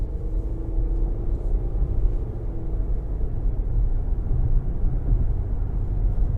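2023 Nissan Murano Platinum with a V6 engine under light throttle, a steady low cabin rumble with a faint rising engine tone early on, continuous and moderate in level.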